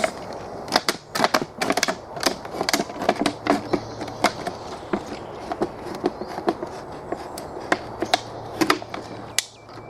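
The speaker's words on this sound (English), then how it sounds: "we're going to be cutting the bottom area off of this bottle" Sharp crackling snaps and crunches from a knife working around a plastic water bottle to cut off its bottom, an irregular run of clicks and scrapes close by, with no talking.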